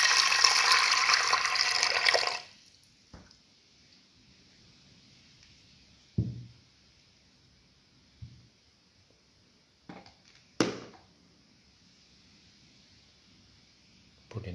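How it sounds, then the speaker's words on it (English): Water poured into rice in a pot, a loud splashing rush for about two seconds that stops abruptly, followed by quiet room tone broken by a few scattered knocks and clatters. "Pour in 200 ml of water."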